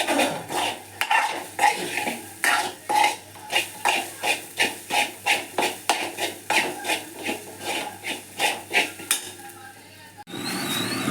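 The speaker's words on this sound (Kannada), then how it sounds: "10 ಟೇಬಲ್ ಸ್ಪೂನ್ ಅಷ್ಟು ಉದ್ದಿನ ಬೇಳೆ ಹಾಕ್ತಾಯಿದ್ದೀನಿ. ಇದು ಚೆನ್ನಾಗಿ ಫ್ರೈ ಮಾಡಬೇಕು." Urad dal, cumin and curry leaves dry frying in a pan, an even series of about a dozen rhythmic spoon scrapes against the metal over a faint sizzle, close up and ending with a brief clatter.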